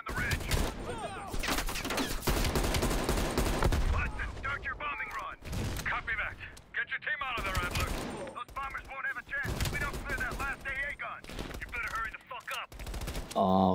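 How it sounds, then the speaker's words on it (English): Heavy machine gun fire from a ridge in the Black Ops Cold War campaign, loud rapid bursts and volleys of gunfire repeating through the stretch with brief pauses between them, mixed with other battle sounds. "Watch it, heavy MG on the ridge."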